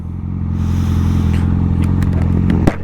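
Yamaha R6 sport motorcycle cruising on a highway on a clear day, a steady loud engine drone with wind rush throughout and a brief sharp knock near the end.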